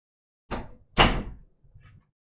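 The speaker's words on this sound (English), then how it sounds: "close that door so at least it's not as noisy" A room door is pushed shut with a couple of solid thuds, the second the loudest, followed by a faint rattle as it settles, with no talk.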